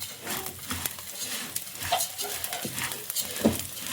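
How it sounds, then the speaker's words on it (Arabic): Rice for a wedding-style dish sautés in a pot, a soft sizzle under repeated scraping stirs and light clinks of a spoon against metal, moderately close. "ادي معانا الرز اتشوح، تعالى نشوفه"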